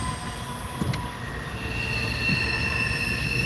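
A freight train led by an Illinois Terminal heritage unit rolls past close by, its wheels squealing in high, sustained tones over a heavy rumbling clatter.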